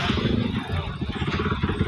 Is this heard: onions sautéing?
no